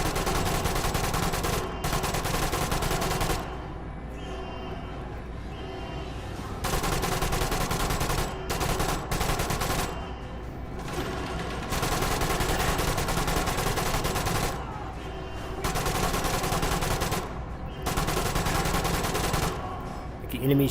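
A heavy machine gun fires in Metro Awakening VR in long, loud, sustained bursts, broken by short pauses, over about twenty seconds.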